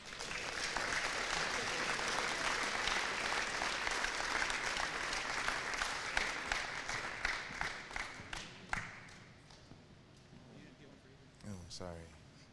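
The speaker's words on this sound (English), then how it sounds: "Let's give those guys a round of applause." A crowd applauds steadily for several seconds at a school fall activities awards night, the clapping thinning into scattered claps before fading, with a voice briefly heard near the end.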